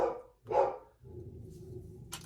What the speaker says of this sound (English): And my dog's really going off.